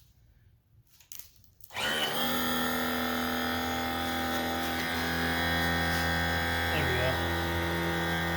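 A boat outboard's electric power trim/tilt motor starts abruptly and runs with a steady, loud mechanical whine and hum, extending the trim cylinders; someone speaks briefly just before it kicks on.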